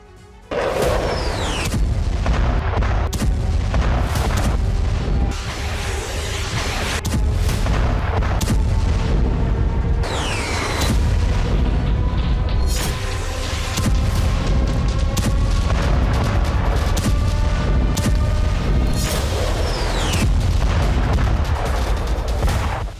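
Continuous loud bombardment in the Gaza war, with heavy booms and blasts recurring throughout amid a dense roar, with no voices.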